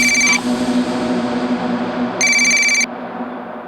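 A telephone ringtone sounds in two loud, short electronic bursts with a longer quiet gap between them, and no one speaks.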